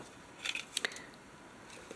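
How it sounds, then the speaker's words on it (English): Small scissors trim plastic film off a ribbon, making a couple of quiet, close snips in an otherwise near-silent room. "I'm always so afraid I'm going to cut the ribbon when I try to get this little plastic film off of ribbons"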